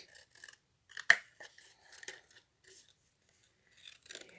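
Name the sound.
trimming wood for a bird house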